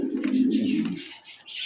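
Close pigeons at a pigeon sale give a low throaty coo lasting about a second, followed by a few softer, higher bird sounds.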